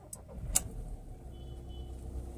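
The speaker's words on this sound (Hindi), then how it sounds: "गाड़ी को स्टार्ट करते हैं" A car engine cranks and starts after a cleared P2425 exhaust gas recirculation cooling valve fault, opening with a sharp click, then settling into a low, steady rumble close by, with no talking.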